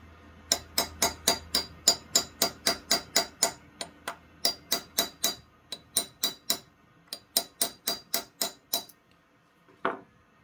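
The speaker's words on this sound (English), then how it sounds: "whenever I have to deal with this lock tab, I generally use just a flat punch" A flat punch is hammered against the lock tab on the timing cover of a Classic Mini A+ engine, giving crisp metallic strikes in quick, steady runs with short pauses between them and one last separate blow, close and loud, with no voices.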